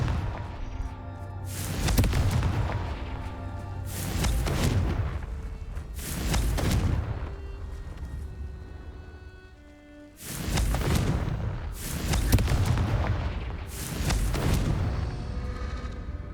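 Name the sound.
Confringo fire spell explosions, Hogwarts Legacy video game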